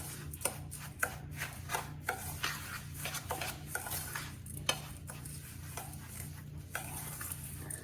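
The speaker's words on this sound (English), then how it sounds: "So I'm just gonna take a regular spoon. I'm gonna get this mixed up." A regular spoon mixes lemon bar crust in a bowl, producing a steady series of scraping strokes and light clinks close by, with no talking.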